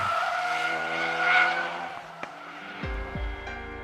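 Ford Focus RS under hard braking, a sustained tonal tire squeal and skid with engine drone that eases off, followed by a short click and a lower rumble as the car settles.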